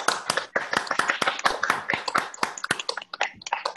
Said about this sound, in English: this is one of our MetaGov practices that Seth imposes on us, is the awkward Zoom applause